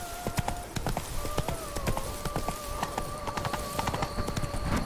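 Hooves of Geralt's horse Roach clip-clop at a steady galloping rhythm in The Witcher 3, loud and close, with a high tonal in-game sound running through and faint speech.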